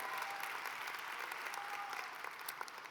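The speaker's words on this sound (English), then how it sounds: "we can give them a round of applause, the founders." A crowd at a congressional institute swearing-in ceremony claps steadily and fairly evenly for about three seconds, a broad wash of hand claps heard at moderate distance.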